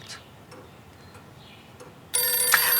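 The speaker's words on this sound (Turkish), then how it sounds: "telefon çalıyor" A telephone begins ringing after a few faint ticks, its bright electronic ring starting abruptly and continuing loud to the end.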